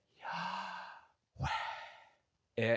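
A voice imitates breathing in and out: two long, airy breaths, each rising and then fading over about a second, followed by a short, sharper voiced gasp. The sounds are close and clear, with silence between them.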